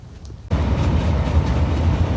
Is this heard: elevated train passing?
yes